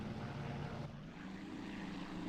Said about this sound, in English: we're watching a film now, all about some American planes coming to attack a tank column or a supply column or something